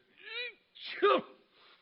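A quick voiced gasp is followed by a sharp, wet sneeze, close and fairly loud, with a short breathy trail after it.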